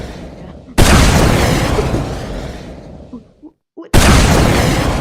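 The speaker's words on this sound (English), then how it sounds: "Rocket launcher." Rocket launcher blasts in a video game: two loud, booming explosions, each lasting a second or more, separated by a brief near-silent gap, with a short spoken word in between.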